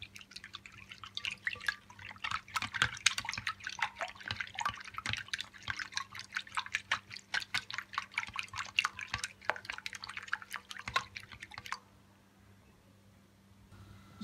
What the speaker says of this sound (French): On va les battre avec un fouet.